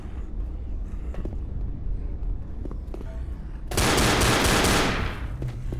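Gunfire rings out in Left 4 Dead, with scattered single shots over a rumbling game background, then a loud, dense burst of rapid firing that lasts about two seconds.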